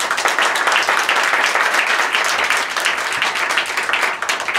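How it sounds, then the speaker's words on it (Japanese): Audience applause at a Japanese rap battle final, a steady wash of many hands clapping at moderate loudness for several seconds with no voices over it. "大きな拍手をお願いいたします。"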